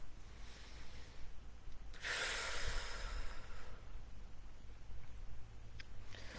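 Fire breath breathing exercise: fast, forceful nasal breaths snort in a steady rhythm, close and fairly quiet, with one longer hissing exhale.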